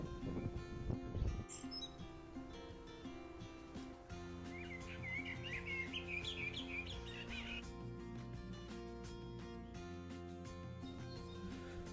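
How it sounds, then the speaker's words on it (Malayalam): Faint birds chirp and twitter in the distance over a steady low background hum in a village in Israel, with a brief burst of tweets midway. "കിളികളുടെയൊക്കെ സൗണ്ട് കൊണ്ട് നമുക്ക് സമൃദ്ധമാണ്"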